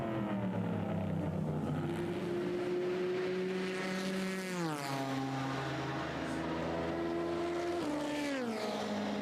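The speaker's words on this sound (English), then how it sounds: "Great sounding cars." Race cars at the 2017 24 Hours of Le Mans, including a Ferrari, Corvettes and an Aston Martin, roar past in a slipstreaming pack with loud sustained engine notes that rise and fall in pitch as they pass, filling the whole stretch.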